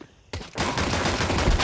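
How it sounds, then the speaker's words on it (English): Dense, continuous gunfire from a Counter-Strike match at a pro esports event, a sudden burst of rapid overlapping shots, including dual Berettas pistols, that erupts after a brief quiet and stays loud and sustained to the end. "little jump around the corner into the dual Berettas of Techno"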